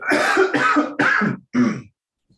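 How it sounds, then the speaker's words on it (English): Four rough, breathy bursts in close succession, then a short silence, like someone coughing or clearing their throat up close. "One sec, I might cough."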